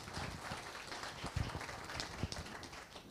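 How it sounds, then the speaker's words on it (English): A crowd applauds steadily for a few seconds at a school PTO meeting, a dense wash of clapping at moderate distance, with a couple of louder claps standing out. "just give them a round of applause,"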